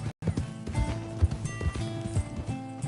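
Horse hooves clop rhythmically on the ground at a steady trot in the Red Dead video game, fairly close, with a faint background hum.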